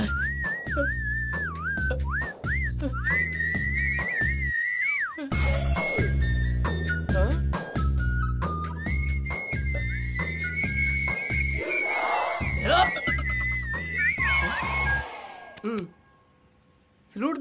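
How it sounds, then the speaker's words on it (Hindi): A whistle is blown again and again in a Hindi-dubbed action film scene, a long shrill tone over a loud rhythmic music score, with voices and a crowd-like commotion mixed in near the end. "ये सीटी क्यों बजा रहा है?"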